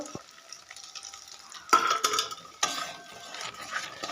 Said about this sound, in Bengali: নারকেলটা নাড়ব ভালো করে